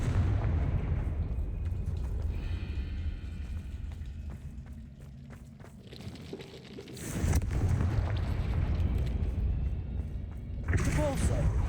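Confringo fire spell blasting in Hogwarts Legacy: loud, dense booming bursts, one run early and another surge about two-thirds through, over a constant low rumble, with game voices mixed in.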